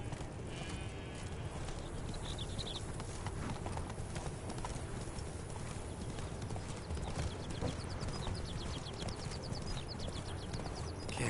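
Galloping horse hooves in The Witcher 3 beat a continuous, even clip-clop from start to finish, fairly close and prominent, with almost no talk over them.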